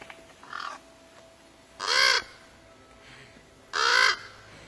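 Two loud, harsh raven caws ring out alone in a Game of Thrones scene, each a single drawn-out croak about two seconds apart, with fainter calls in between.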